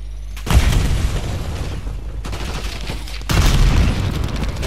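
Shotgun fire in Call of Duty Black Ops 6: two heavy booming blasts with long noisy rumbling tails, loud and close, the second hitting about three seconds after the first, with no talking.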